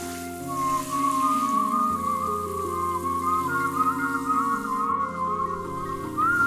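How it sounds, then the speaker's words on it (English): A character in the game Ghost in the Sheet whistles a wavering tune, steady and clear over a layered ambient background with a faint rain-like hiss. "What's that tune you're whistling?"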